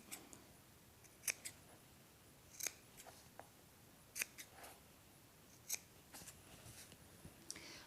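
Fabric scissors cut small notches into garment pieces for a cami at a sewing table, a series of crisp, close snips spaced every second or so, with faint rustling of cloth between cuts and no talking.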